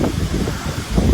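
Strong wind buffeting during a windstorm, a steady low broadband roar that swells louder toward the end, alone with no talk.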